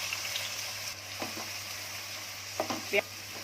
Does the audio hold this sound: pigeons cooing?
no